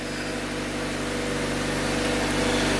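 The B16A engine in a Honda Civic Si hatchback runs just after start-up with a steady droning hum that gets slightly louder toward the end, heard up close with no talking.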